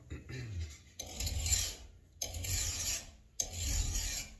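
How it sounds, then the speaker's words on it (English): A hand file rasps over a metal bar clamped in a loose bench vise, making three long, loud, gritty strokes with short pauses between them. "we're gonna run the file over it for a minute until we get her flat"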